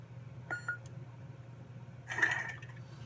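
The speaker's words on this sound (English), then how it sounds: "Hold the button down till it beeps, and then you're on the next sound font." A Nano Biscotti sound board in an MHS lightsaber beeps as the button is held to switch sound font: two short, faint electronic beeps a second and a half apart over a quiet room hum.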